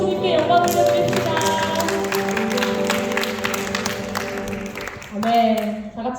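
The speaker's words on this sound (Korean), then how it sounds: "박수로 주님께 영광 올려드립니다" A Korean church congregation claps during a Sunday worship service, with continuous applause blended with music and voices. The clapping swells again briefly near the end.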